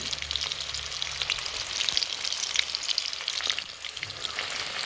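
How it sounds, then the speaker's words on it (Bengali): Batter-coated cauliflower florets deep-frying in a wok of hot oil, a steady dense sizzle with crackling bursts, close and continuous throughout with no talk. "ব্যাটারের মধ্যে ডুবিয়ে এবার গরম তেলের মধ্যে ভেজে নেব"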